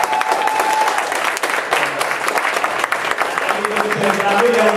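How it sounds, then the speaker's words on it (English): Dense, steady applause from a live audience at a talk in Boston honoring Mwalimu Baruti, continuous and fairly loud throughout with a faint voice or tone threaded in near the start. "can we give Mwalimu Baruti another round of applause?"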